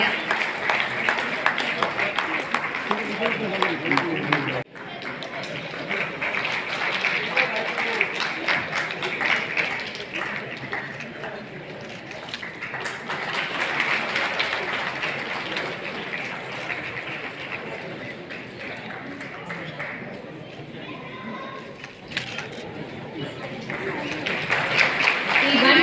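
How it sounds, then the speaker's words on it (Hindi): Audience applause at a national handloom day ceremony, a dense wash of clapping that holds steady for most of the stretch, dipping briefly once and swelling again near the end, with a hum of crowd noise underneath. "तालियों की बौछारें होती रहनी चाहिए"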